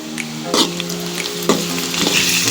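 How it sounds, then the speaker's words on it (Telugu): A medium-sized chopped onion sizzles steadily in hot oil in a pan while being stirred, with scraping spoon strokes over a continuous close frying hiss. "మీడియం సైజు ఉల్లిపాయ వేసుకొని ఈ విధంగా కలుపుకోవాలండి"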